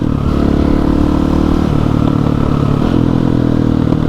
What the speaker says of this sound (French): Le son de cette moto, il est jouissif quoi. Un gros 4 temps.